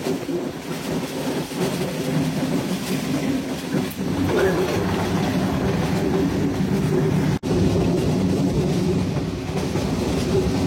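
Kurigram Express train rolling along the rails in Tangail district near the Jamuna Bridge approach, a steady loud rumble with rhythmic clickety-clack of wheels throughout, briefly dipping near the end before resuming.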